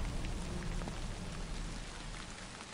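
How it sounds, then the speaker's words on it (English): Steady rain falling in the video game Tsugunohi, a dense even hiss of drops spread across the whole clip with faint low rumble beneath, no voices. "It's starting to rain."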